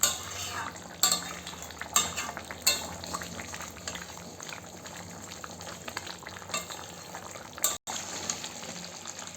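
Katla fish gravy simmers in a pan, a soft steady bubbling and sizzling with a few sharp clinks of a utensil against the pan.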